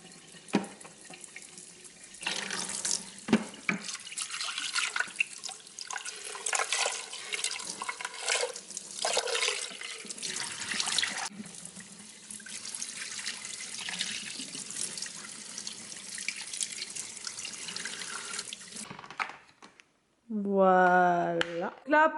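Water from a vacuum cleaner's tank pours into a sink with a running, splashing rush that shifts in strength, then stops abruptly, followed by a short burst of speech at the end.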